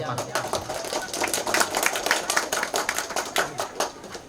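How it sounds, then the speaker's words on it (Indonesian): An audience claps for TPA Ar-Rahmah at a Quran-completion celebration in Desa Nelayan, Sungai Tabukan, a quick run of individual claps building and thinning over a few seconds, fairly close, with a voice briefly heard. "Tepuk tangan dulu untuk TPA Ar-Rahmah."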